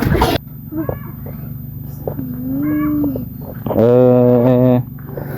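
A cat gives two drawn-out meows, the second louder and longer, close by over a low outdoor background hum, with a brief burst of noise at the very start.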